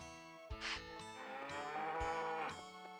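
Cow mooing in the Harvest Moon 64 farming video game, a series of short, close, tonal lowing calls that repeat in quick succession with no talk over them.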